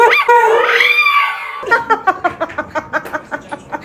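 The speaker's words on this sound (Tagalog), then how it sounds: "Tumatahol." A dog, close and loud, gives a rising whine-like howl, then a quick regular run of short yips or barks, about a dozen in steady rhythm.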